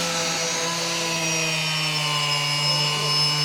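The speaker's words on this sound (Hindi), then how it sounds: "ये छोटा सा ग्राइंडर है मिनी साइज का। अब ये देखें, ये लोड डालते हैं इस पर।" A small mini-size power grinder whines steadily under load with a constant high-pitched tone and an even, unbroken hum throughout, loud and close.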